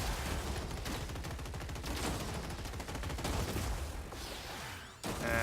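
Machine-gun robots fire steadily in the battle game Gladiabots, a dense rapid rattle of shots running almost without pause for about five seconds before a brief break and a final burst.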